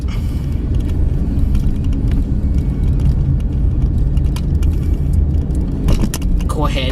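A 2017 GMC Canyon pickup truck drives with a steady low road rumble and engine hum throughout, a few rattles and clicks, and a person talking over it.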